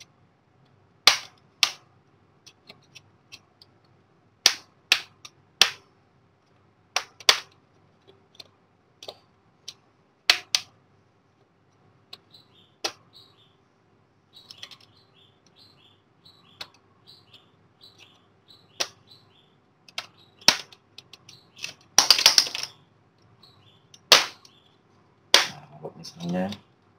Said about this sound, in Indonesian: kemudian sampai kiri kita congkel, harus perlahan-lahan supaya nggak ada yang patah